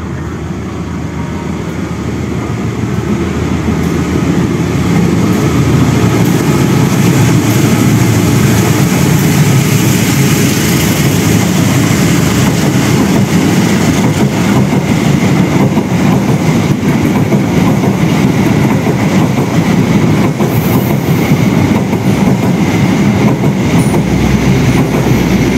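A passenger train, the Gaya Baru Malam Selatan, rumbles past on the rails, loud and close, with a steady heavy roar and faint clatter of wheels throughout.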